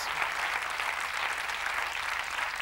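Continuous applause from a television studio audience, an even, dense wash of clapping that holds steady for the full stretch without pause.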